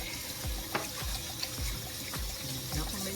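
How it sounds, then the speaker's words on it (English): Cold tap water runs over smoked pork neck bones being washed in a sink, a steady trickling stream broken by several soft thuds and clunks as the bones shift, quiet and close. "Wash them with some cold water."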